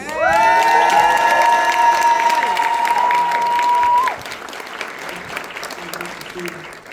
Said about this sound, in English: Make another round of applause.